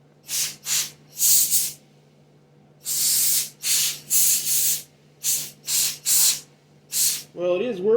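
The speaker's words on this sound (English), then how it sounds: "the air compressor's got a little bit of charge left" Short bursts of compressed air from an air compressor blow dust and excess epoxy off a glued Christmas ornament. They come as a string of sharp hisses with brief gaps, close by, and a voice makes a brief sound at the end.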